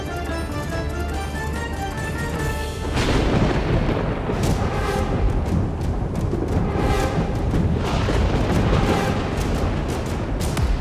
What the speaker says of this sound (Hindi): ये भीषण आंधी, ये मूसलाधार वर्षा